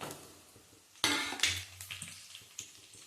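Slit green chillies tossed into a hot pan for a yogurt chilli curry: a sudden loud sizzle, then softer spattering and a few metal clinks of a spoon against the pan.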